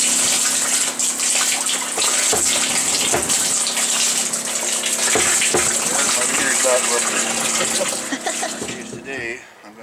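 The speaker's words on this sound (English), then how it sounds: "We'll take this now and fill water into the inductor." Water gushing steadily into a shuttle inductor, a loud, continuous rushing pour that tapers off near the end.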